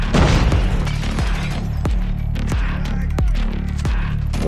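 Gunfire in Call of Duty Mobile: several sharp, loud shots and booms crack out at irregular intervals over a constant low electronic hum.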